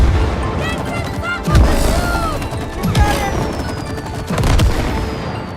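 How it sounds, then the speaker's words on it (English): Repeated booming blasts from combined sap and match guns in the co-op video game It Takes Two, three heavy explosions with chirpy effects and background music in between. "Combine the sap gun and the match gun to create explosions."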